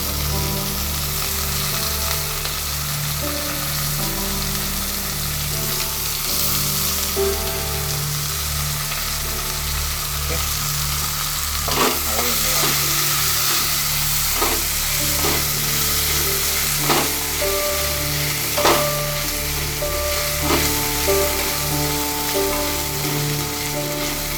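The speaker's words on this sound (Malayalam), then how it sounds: "പൊട്ടറ്റോ ഫ്രൈ ചെയ്ത് കിടന്നാൽ കറിക്കൊരു ടേസ്റ്റ്" Potatoes frying in a pan for a curry, a constant loud sizzle with intermittent scraping and clattering of a stirring utensil, close up with a faint melodic background tone throughout.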